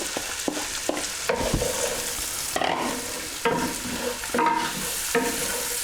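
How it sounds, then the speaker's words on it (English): Onions frying in a pan for ranch chicken pasta, sizzling steadily while a utensil stirs them in repeated scraping sweeps, close and clear with no talking. "we're just going to fry these onions for about 4 or 5 minutes, just until they start to soften"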